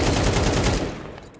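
Rapid automatic gunfire from a CS2 match on the Inferno map, a dense loud burst of shots fired through a wall that tails off near the end.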